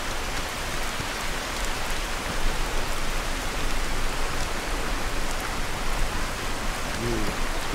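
Steady rain falls in the game Skyrim, a soft continuous hiss that stays even and fairly faint throughout, with no speech over it.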